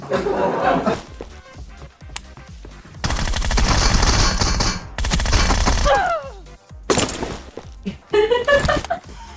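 Gunfire rattles through a PUBG Mobile match: sharp shots, then dense rapid bursts in the middle, then scattered later shots, with voices and laughter between them.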